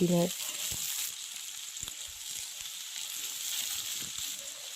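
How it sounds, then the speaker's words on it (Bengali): Vegetables with green peas and green chillies sizzle steadily in a pan, with occasional soft scrapes and knocks as they are stirred. "তারপরে এর মধ্যে একটু মটরশুঁটি আর কাঁচা লঙ্কা দিয়ে দিলাম, দিয়ে বেশ খানিকক্ষণ নেড়ে চেড়ে ভাজা মতো করে নেব"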